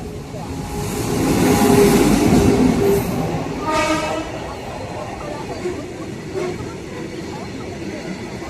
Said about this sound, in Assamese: আহি গ'ল ট্ৰেইন